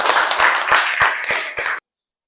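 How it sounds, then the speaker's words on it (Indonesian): A classroom of students applauds the best group, with several seconds of loud, close, overlapping clapping that cuts off abruptly. "Kita berikan tepuk tangan untuk yang kelompok terbaik."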